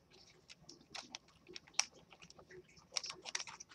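Small, very sharp men's grooming scissors, used for detail cutting, snipping close by in quick, irregular crisp clicks and light crunches, with a few louder snaps along the way.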